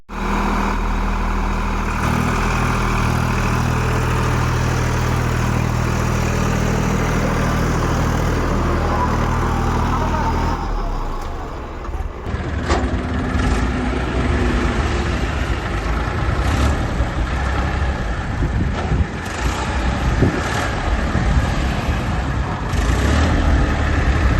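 A Massey Ferguson tractor's diesel engine idles steadily and loudly for a while, then the tone shifts to a rougher, rattling running sound with clanks.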